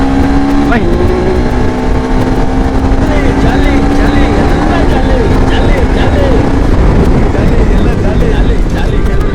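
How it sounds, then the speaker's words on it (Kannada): A KTM Adventure 390X motorcycle riding off-road, its engine loud and close with rising and falling revs through gear changes, under heavy wind buffeting throughout. "ಆಫ್ ರೋಡ್ ರೈಡಿಂಗ್ ಇದರಲ್ಲಿ ನಿಮಗೆ ನೋಡ್ಬೋದು ಕ್ವಿಕ್ ಶಿಫ್ಟರ್ ಕೂಡ ಸ್ಮೂತಾಗಿ ವರ್ಕ್ ಆಗ್ತಿದೆ"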